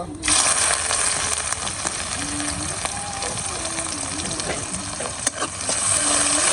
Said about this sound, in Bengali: তেল গরম হয়ে গেছে। একটা তেজপাতা, কয়টা জিরে দিয়ে দেব। পেঁয়াজ কুচি দিয়ে দেব।